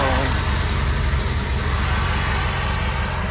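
A 1950 Chevrolet car's engine idles steadily and close by, a low continuous rumble with no gaps from start to finish.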